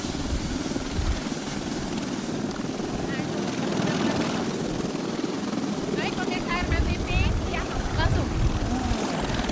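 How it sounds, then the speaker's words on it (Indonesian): An EC-120 Kolibri helicopter lifts off at an air force display team event, with a steady loud rotor and engine roar throughout, while a commentator talks over it. "pesawat EC-120 Kolibri telah melaksanakan take off"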